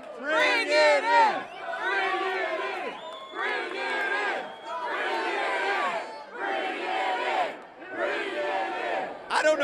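Nuggets fans in a crowd roar a chant in five or six loud rhythmic bursts with short pauses between them, following a cheer leader after a Game 4 win inside an arena.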